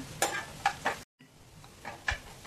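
Onion, capsicum, carrot and cabbage stir-fried for paneer crispy, with a few quick scraping tosses of a spatula over a light sizzle and a brief gap of silence, close-up.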